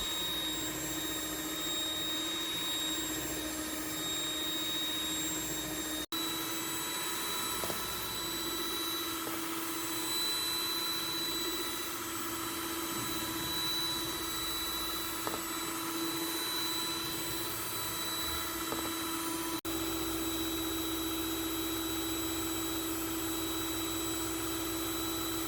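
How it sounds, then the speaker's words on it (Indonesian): An electric mixer beats eggs for steamed brownie batter, giving a steady, even whirring drone with a constant pitch that runs unbroken and close throughout, with no talking. "Ini tuh si telurnya sudah semakin hampir memutih ya teman-teman, dan ini masih aku kocok terus"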